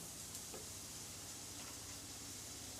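A soft, steady sizzle of mushrooms frying in a hot pan, with faint hissing throughout and no voices.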